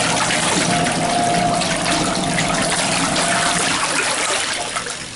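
A Laundry Alternative Superpop portable washer drains its water in a loud, close, continuous rushing gush that trickles and thins slightly toward the end.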